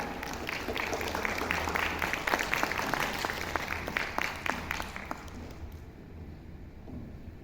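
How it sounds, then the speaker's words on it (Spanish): Audience applause in a cultural centre auditorium for a novel presentation, a moderate crowd clapping with sharp individual claps standing out, building slightly and then stopping abruptly, leaving quiet room tone. "Señoras y señores, fuertes aplausos para Santiago Azágar."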